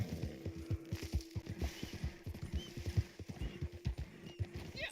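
A horse in the video game Red Dead Online trots with rapid, rhythmic clip-clop hoofbeats, close and clear, with a whinny mixed in.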